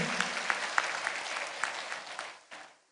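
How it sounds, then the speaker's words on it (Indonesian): Audience applause at an Islamic religious gathering (pengajian) in Blitar, a steady wash of many hands clapping with a few sharper claps standing out, fading toward the end. "Tepuk tangan untuk panjenengan semua yang hadir."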